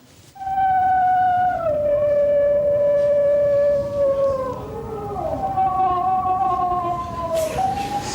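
A tiny mixed-breed dog sings in long, very high, wavering howls that slide slowly downward and rise again, loud and close with a faint background murmur.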